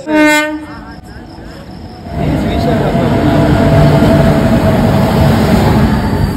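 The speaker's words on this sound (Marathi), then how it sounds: "आणि आपली 124ला ट्रेन आहे LTT विशाखापट्टणम, जी पिठापूरवरून आहे।" A loud train horn blasts at the start, then a passenger train rumbles in steadily, its wheels and engine filling the scene.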